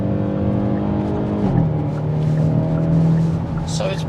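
A Hyundai i30 Sedan N (2024, DCT) pulls under full throttle, its engine and exhaust droning steadily with a pitch shift midway, heard from inside with some speech alongside.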